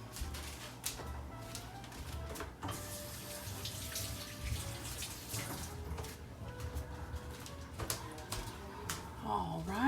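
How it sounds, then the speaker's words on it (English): Water running from a kitchen tap as hands are washed, a steady hiss and splash held under the whole stretch with faint background noise and a voice briefly heard. "Wash my hands real quick."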